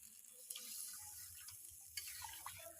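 Water is poured into a simmering potato curry in a pan, giving a faint, close splash and hiss lasting a few seconds with no talking.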